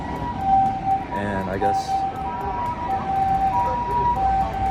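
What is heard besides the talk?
Japanese ambulance siren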